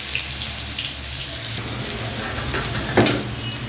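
Chopped garlic and ginger sizzle steadily in hot oil in a pan, a continuous close frying hiss with a brief louder burst near the end and no talking.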